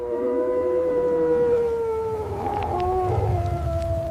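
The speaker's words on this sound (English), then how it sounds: "This is a large sandy desert Arabian wolf." An Arabian wolf of the sandy desert howls in long, sustained, wavering tones that rise and blend into overlapping voices, loud and continuous throughout, with no talking.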